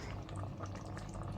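Crab simmering in tamarind water in a pot, a steady close bubbling boil with fine popping and crackling throughout, no voices.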